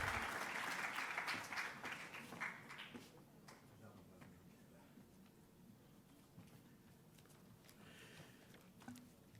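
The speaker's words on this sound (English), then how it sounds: "let's give him a round of applause" A conference audience applauds a welcomed professor; the clapping is strongest at the start and fades to a quiet, sparse patter.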